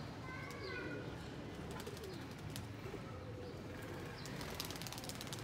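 Domestic pigeons cooing and fluttering around a home loft and net, soft low coos early on with scattered wing clatter, faint and fairly distant, under someone talking.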